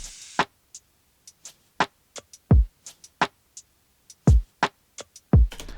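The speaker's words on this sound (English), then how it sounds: "So, drums sound like this." A sparse lo-fi drum loop programmed in FL Studio, with isolated kick drum thumps and a crash cymbal among light ticking hits, separated by silence.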